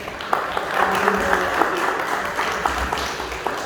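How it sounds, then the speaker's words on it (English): At a university awards dinner, an audience applauds as a dense, steady wash of many hands clapping in a large room, with faint voices mixed in. "thank you very much, all of you, for giving a big round of applause"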